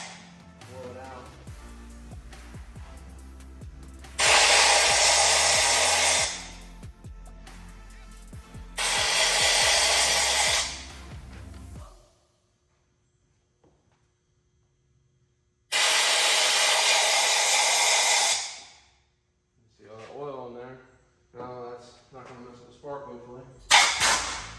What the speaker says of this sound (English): Take a rag, a blow nozzle, stick it in there.